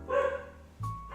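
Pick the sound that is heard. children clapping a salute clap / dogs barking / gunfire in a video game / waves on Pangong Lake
dogs barking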